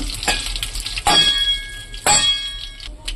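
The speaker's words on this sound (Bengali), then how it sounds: "ফোড়নের মধ্যে কালো জিরে আর তেজপাতা দিয়ে দেবো।" Black cumin and bay leaves crackle and sizzle in hot oil in a wok, with three sharp metallic clangs of a utensil at roughly one-second intervals over the frying.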